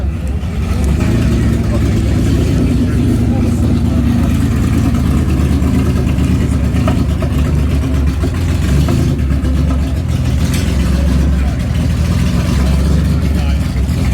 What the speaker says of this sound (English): Porsche 904 here warming up.